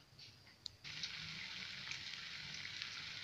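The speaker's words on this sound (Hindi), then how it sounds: "2 पीस हमने डाल दिया है फ्राई होने के लिए" Bread pakoda pieces dropped into hot oil in a kadai, a steady broadband frying hiss that jumps louder as they go in and then holds, close and continuous.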